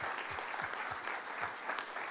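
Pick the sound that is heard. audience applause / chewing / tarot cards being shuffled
audience applause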